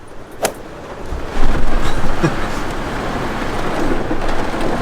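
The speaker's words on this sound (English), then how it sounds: "there is the craziest severe thunderstorm with 60-mile-an-hour wind gusts, and stuff is flying everywhere" A severe thunderstorm with 60-mile-an-hour wind gusts and pouring rain roars steadily, with a sharp crack early and a surge of wind-driven rain that builds and stays loud, heard in pitch darkness.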